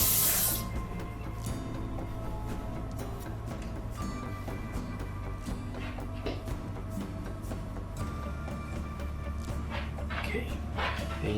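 Vegetables for a ratatouille are rinsed under a running kitchen tap, a steady hissing spray of water that lasts throughout at moderate loudness, with small clattering handling sounds over it.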